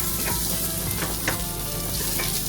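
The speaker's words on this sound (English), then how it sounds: "So I have added some curry leaves and the onion, the remaining portion, after adding to the meat" Onion and curry leaves fry with mutton in a pan for a Kerala stew, producing a dense, steady sizzle with a few brief stirring scrapes, close and continuous with no voices.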